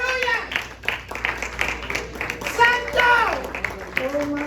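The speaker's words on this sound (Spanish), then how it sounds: "Denle un aplauso al Señor." Clapping and applause from a church worship congregation rise beneath loud, sung or shouted voices, lively and close, the voices dominating the clatter.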